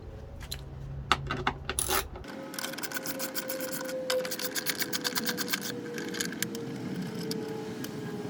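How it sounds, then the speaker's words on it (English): An 8mm socket turns out bolts on a 2019 Honda Pilot, giving close, rapid ratchet clicking that rattles on for several seconds after a brief rumble. "You want to get your 8mm socket and remove these two bolts."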